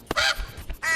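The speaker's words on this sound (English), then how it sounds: "Oh, there's a bird." A bird calls in the climbing video game Peaks of Yore, a few harsh, crow-like caws in quick succession, close and clear with no talk over them.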